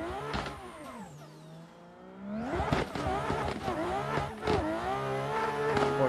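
Engine of a Toyota A90 Supra in a racing video game, revving up and down through gear changes with a smooth rising and falling tone, loud and close, with a brief drop before climbing again.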